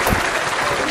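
A short burst of clapping from a group, dense and fairly loud, during a children's cartoon-quiz game.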